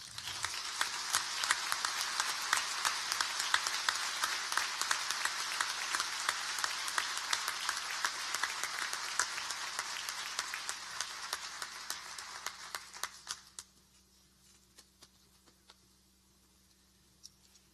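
An audience applauds poet Leonardo Padrón at a 2016 panel discussion marking the 75th anniversary of Empresas Polar: sustained dense clapping with sharp individual claps poking through, holding steady for about thirteen seconds before cutting off abruptly into near silence.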